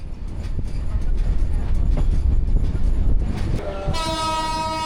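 A train traveling from Chuadanga to Rajshahi rumbles and clatters over the rails at close range, then a loud, sustained horn blast sounds near the end.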